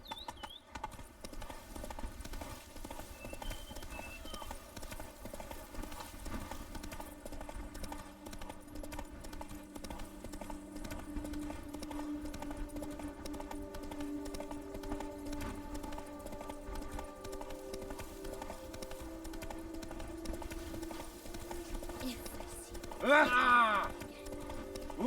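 The player's horse trots in The Witcher 3 video game, with steady, rhythmic clip-clop hoofbeats over a soft tonal game backdrop and a brief voice near the end.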